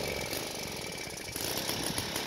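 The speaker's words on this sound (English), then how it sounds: "So what we gotta do to start it is get on the bike, pedal, put the throttle into the engine revolution position." A Doodle Bug scooter's small engine catches while being pedal-started, a loud, steady, buzzing putter heard close up and alone.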